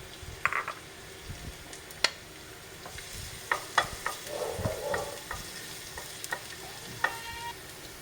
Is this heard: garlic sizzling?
yes